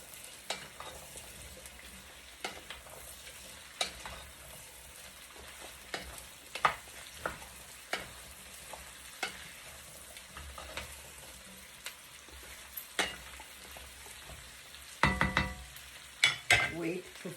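Zucchini, carrots, potatoes and sweet potatoes cook in a pot for a Moroccan meal under a quiet, continuous sizzle. Scattered utensil clicks and scrapes from stirring punctuate it, growing busier and louder near the end.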